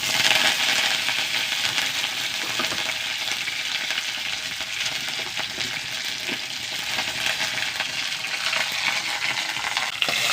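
Dried red chillies and fresh curry leaves fry in hot oil with a dense, steady hiss and crackle, close and continuous throughout, no talking.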